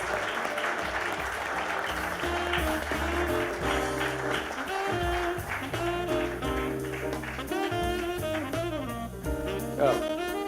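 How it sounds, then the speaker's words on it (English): An audience applauds steadily as three young ladies walk up onto the stage at a Manipal Hospital event, with music playing throughout. "A round of applause to all 3 ladies."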